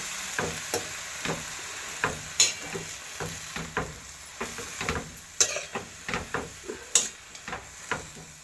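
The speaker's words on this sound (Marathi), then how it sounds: "भाजीला थोडं हलवून घेऊया एकजीव करूया सगळे" Tandulja greens sizzle in a pan while being stirred, with a soft continuous fry under a run of irregular scraping and tapping strokes of the spatula against the pan, close and fairly loud.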